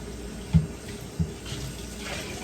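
Water runs steadily into a cooking pot for rice with a soft, even rush, broken by two light clunks.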